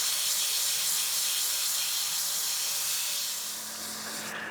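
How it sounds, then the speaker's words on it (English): A power sander grinds steadily over wood with 400-grit paper, a continuous loud rasping hiss that eases slightly near the end, while refinishing a German smoker. "All right, so let's start sanding."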